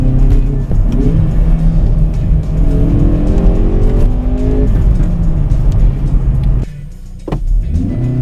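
A Hyundai i30N Performance engine revs and surges hard during a failed launch control start, pitch climbing through gears, then briefly cuts out before revving back up.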